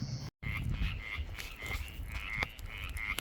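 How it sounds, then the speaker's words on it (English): A chorus of spring peeper frogs calls outdoors in West Virginia woods near a creek with sandbars, repeated high chirps overlapping steadily at moderate distance with no talking. "Hear them spring peepers?"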